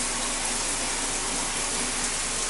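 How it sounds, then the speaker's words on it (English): Hot water pours from a shower in a bathroom, a steady, close rush of spray and splashing with no voices over it. "So we'll turn on the hot water and get this going."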